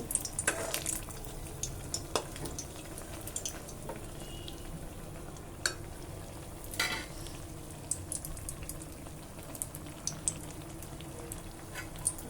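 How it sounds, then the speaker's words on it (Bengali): Oil pitha, rice cakes, deep-frying in hot oil, a continuous soft sizzle and bubbling with occasional clinks and stirring knocks nearby. "এই যে তেল পিঠা ভাজা শুরু হয়ে গেছে"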